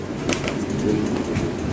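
Pigeons coo softly in short bursts over a low, steady background rumble, close by with no talking.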